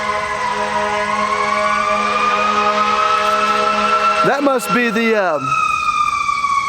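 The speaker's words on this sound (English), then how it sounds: "sorry about the siren, hold on." A siren sweeps up and down loudly as an emergency vehicle passes, its wail rising then warbling near the end, with someone talking throughout.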